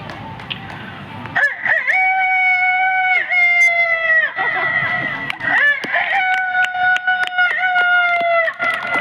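A man imitates a rooster crowing at dawn, long drawn-out cock-a-doodle-doo calls delivered loud and close, several rising and falling crows in a row after a brief quiet start.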